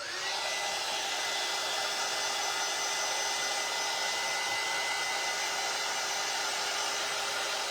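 A hair dryer runs steadily and loudly to dry freshly stenciled paint, a continuous whooshing hum with a constant pitch whine, close and uninterrupted with no talk.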